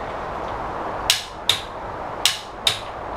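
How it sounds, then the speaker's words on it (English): A torque wrench set to 76 foot-pounds tightens the lug nuts on a Lexus ES 350 during a front-wheel-drive tire rotation, giving four sharp, close metallic clicks at uneven intervals over a quiet background hiss, with no talking. "when you're torquing down these lug nuts, I have mine set at 76 foot-pounds of torque."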